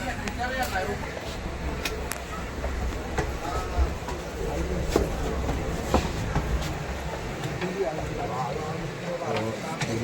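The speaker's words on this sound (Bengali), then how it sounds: "এটা কাঞ্চনজঙ্ঘা এক্সপ্রেস, যেটা এই যে কাঞ্চনজঙ্ঘা এক্সপ্রেস এখন যাচ্ছে" The Kanchenjunga Express rolls past a railway crossing at Jatinga Lampur on the Silchar–New Haflong line, a steady rumble of wheels and carriages with repeated clacks, while someone talks over it.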